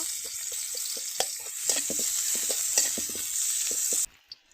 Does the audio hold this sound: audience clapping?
no